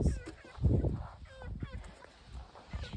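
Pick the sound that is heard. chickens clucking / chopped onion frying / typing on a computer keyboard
chickens clucking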